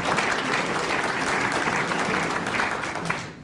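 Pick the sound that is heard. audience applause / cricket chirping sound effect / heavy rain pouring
audience applause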